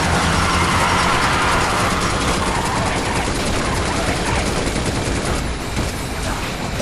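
Gunfire in the shooter Binary Domain, with dense, continuous automatic bursts filling the whole stretch, loud and busy with clattering game effects.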